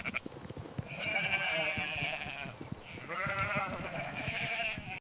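Sheep heading back into their farm enclosure at sunset, bleating in two long, loud, wavering calls that overlap and fill most of the stretch, with scattered shuffling and thumps underneath.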